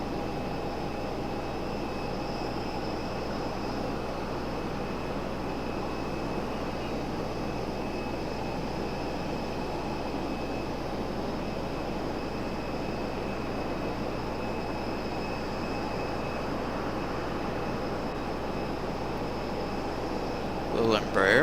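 An Embraer jet arriving at Raleigh-Durham airport produces a steady, moderately distant engine drone with a constant whine, continuing evenly and alone for about twenty seconds.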